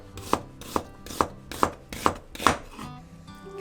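A knife slices a peeled onion thinly for yakisoba, six crisp, evenly spaced chops on a cutting board, close and clear with no talking.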